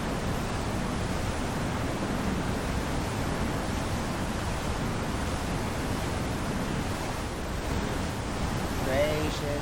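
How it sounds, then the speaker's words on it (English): Violent tornado winds roaring at gusts near 170 mph in the Roblox game Twisted, a dense, steady, loud rush with no break for the full length. "Now that is a violent tornado."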